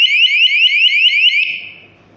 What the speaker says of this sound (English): Long press this button to change the alarm sound.